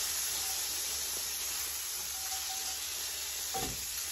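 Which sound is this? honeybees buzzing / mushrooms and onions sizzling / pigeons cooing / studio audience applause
mushrooms and onions sizzling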